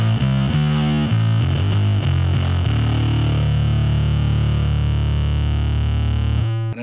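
Bass guitar played through a distortion pedal on a pedalboard, thick fuzzy notes and slides for several seconds, then one long sustained growling note ringing out loud and alone before cutting off.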